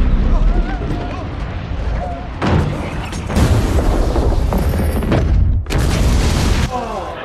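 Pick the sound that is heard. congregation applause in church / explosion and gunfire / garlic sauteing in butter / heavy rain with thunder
explosion and gunfire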